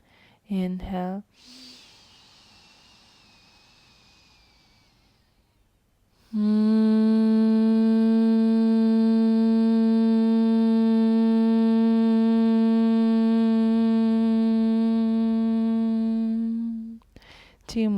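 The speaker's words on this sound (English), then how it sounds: "as you exhale, you're making a humming noise" A long, steady hummed exhale through closed lips during yoga breathing practice, sung at one low pitch for about ten seconds. It is close and loud, with soft breaths before and after.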